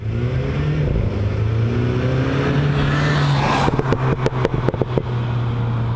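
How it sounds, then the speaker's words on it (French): A MINI John Cooper Works engine drones and revs steadily, then a rapid series of sharp exhaust pops and crackles bursts out near the end. "on entend cet échappement, ces pétarades qui sont totalement lyriques"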